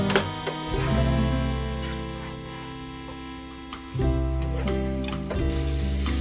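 Ginger-garlic spice paste sautés in a pan for Kashmiri chicken, giving a steady, close sizzle with faint stirring scrapes and no talk.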